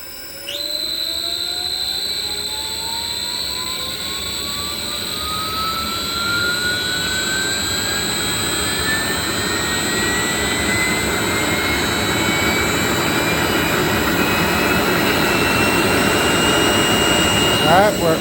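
A 7.5 HP three-phase regenerative ring blower driven by a variable-frequency drive spins up to full speed, its loud airy whine rising steadily in pitch over a constant rushing roar.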